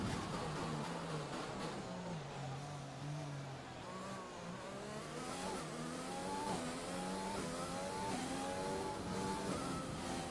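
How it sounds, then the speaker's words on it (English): An F1 race car engine from the F1 2020 video game roars continuously, its pitch climbing repeatedly through quick gear changes, loud and steady throughout. "I want to make sure that the engine isn't too loud."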